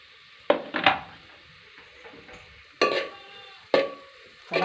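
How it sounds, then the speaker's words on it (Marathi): Coconut, garlic and ginger roasting in a pan over a wood-fired stove, a faint low sizzle broken by several loud scraping stirs of a spoon against the pan at irregular intervals. "आता मी खोबरं आणि लसूण आणि आलं हे आता भाजून घेणार मी."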